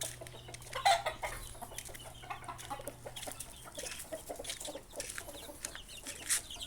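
Fighting roosters bred as gamecocks cluck at a farm, with a steady patter of soft, close clucks scattered through the clip alongside faint rustling and background noise.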